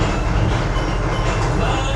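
Roller coaster train at Alton Towers rumbling steadily onto the corkscrew, a loud, continuous low roar of wheels on track with no break across the stretch.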